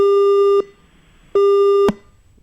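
Telephone busy signal on a failed phone-in call to a farm broadcast: two loud, identical steady tones, each about half a second, separated by a short silence, ending abruptly.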